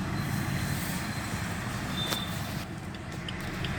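A Swift Dzire car driving, heard from inside as a steady low engine and road rumble with a faint high tone and a soft click near the middle, no talking.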